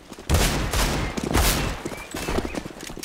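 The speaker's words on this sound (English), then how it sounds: "Let me shot the deagle." Desert Eagle pistol in a CS:GO deathmatch fires a rapid burst of loud, close shots that quickly follow one another, then fades into quieter ambient game noise.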